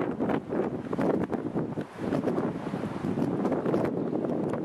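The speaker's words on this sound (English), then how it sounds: "the wind is getting really bad right now" Strong wind buffets the microphone outdoors in steady, loud gusts with rumbling low-end roar across the whole stretch, broken by one brief lull.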